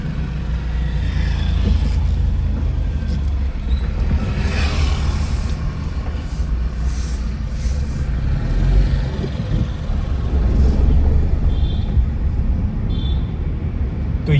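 A car engine running steadily while the car turns around in a narrow lane, a loud, constant low rumble with road and traffic noise and no voices.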